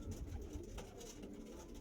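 Andhra Kalsira Lalsira pigeon cooing softly and steadily at close range over a low, continuous background rumble, with no voices.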